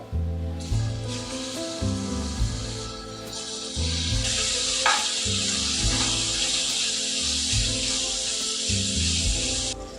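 Marinated chicken frying in oil in a wok: a steady, close sizzling hiss swells after the first second and grows louder and denser about halfway through, over low, steady background tones.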